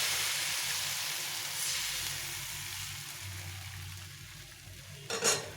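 Thin rice flour batter sizzles steadily in a hot frying pan, a continuous close hiss that fades slightly before a brief clatter of utensils near the end.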